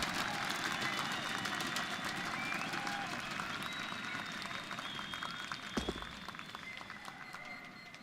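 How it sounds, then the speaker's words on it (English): A large arena crowd at the ESL One Cologne 2017 CS:GO semifinal roars and applauds in a continuous dense wash, with a commentator talking over the noise. "With the crowd against him, the cheers coming through"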